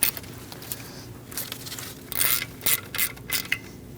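A hand ratchet snugs up bolts near the alternator on a 2002–2006 Toyota Camry 2.4L four-cylinder during a water pump replacement, giving several short bursts of close, rapid clicking.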